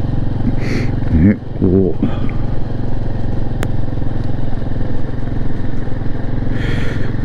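An off-road motorcycle in second gear climbs a dirt forest road on the Daruma-yama trail in Izu, giving a loud, steady close engine drone throughout, with a rider talking briefly over it.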